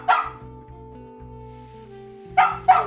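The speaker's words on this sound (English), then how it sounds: "You can just listen to the barking." Dog barking in the game Duck Detective 2, three sharp barks, one at the start and two close together near the end, over a quiet, low sustained musical background.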